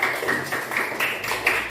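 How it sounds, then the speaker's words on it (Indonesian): Classroom of students clapping for group presentations, a dense scatter of handclaps with a few sharper claps standing out, steady and fairly close with no talk. "Kita beri tepuk tangan untuk kalian semua, yuk."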